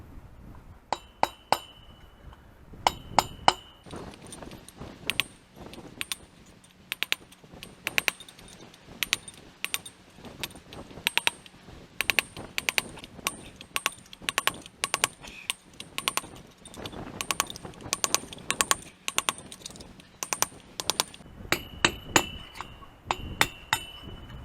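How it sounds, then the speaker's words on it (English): Slow, uneven metallic tapping as a punch is driven around an axle hub to knock out a part on a 2500HD rear axle, sharp clinks in irregular clusters, close and fairly loud with no talk. "you'll go all the way around, tapping slowly until it drops out"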